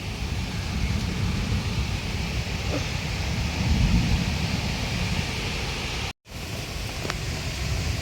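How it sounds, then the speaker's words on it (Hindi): Strong dust storm wind roars in a continuous broadband rush with gusty low rumbling against the microphone, then cuts out briefly and resumes, with no clear talking. "बहुत तेज की आंधी आई है।"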